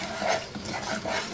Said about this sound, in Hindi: आधी प्याली सूजी की। इसको इतनी देर तक भूनेंगे कि इसकी रंगत जो है वो हल्की सुनहरी माइल हो जाए